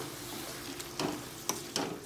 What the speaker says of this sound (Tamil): இது எல்லாமே ஆட் பண்ணி நல்லா மிக்ஸ் பண்ணி விட்டுக்கோங்க.